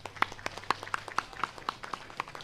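Crowd at a cultural community gathering applauds in a steady, moderately quiet patter of claps that stays fairly even over a couple of seconds, with no talk over it.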